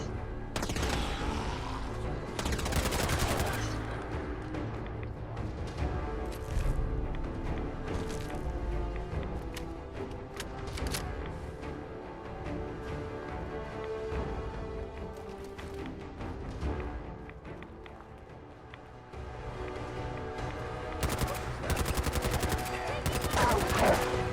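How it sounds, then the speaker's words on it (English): Weapon fire in Fallout 4, with bursts of sharp shots and rattling volleys scattered through a busy game soundscape, fairly loud, clustered near the start and again toward the end. "Firing weapon."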